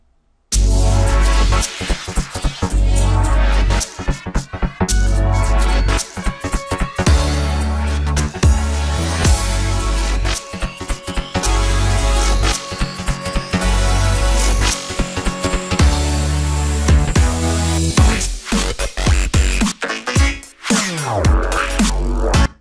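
Dense electronic dance track with chopped, pulsing chords and heavy bass, rising in intensity and tension over a steady beat, with brief gaps near the end.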